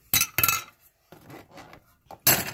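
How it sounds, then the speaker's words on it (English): A favorite frying pan grabbed and set on a stove, giving a few sharp metallic clanks and clinks separated by quieter handling noise, close and loud. "grabbing my favorite pan"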